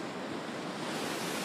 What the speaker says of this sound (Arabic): رانا في البحر